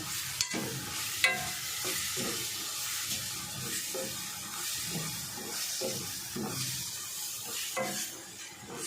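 Ground dry-coconut masala paste for a chicken curry fries with a steady sizzle while a spatula stirs and scrapes the pan in frequent, close, uneven strokes.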